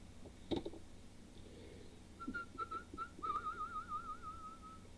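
A person whistles a short run of notes, then a longer wavering tune, fairly close and clear over faint background noise.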